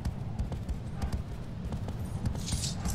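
A horse gallops in the video game Shadow of the Colossus, its hooves clip-clopping in a quick, steady rhythm over a dense low rumble.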